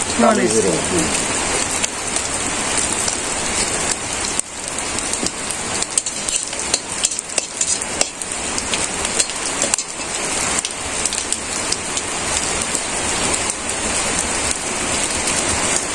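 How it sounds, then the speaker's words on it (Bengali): Steady rain patters on the ground and surfaces outside a village kitchen, an even continuous hiss throughout. A voice is heard briefly at the start. "বৃষ্টি হয়েছে না।"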